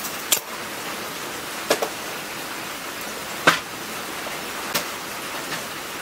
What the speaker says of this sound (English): go in the house and wait for the rain to see what it's going to do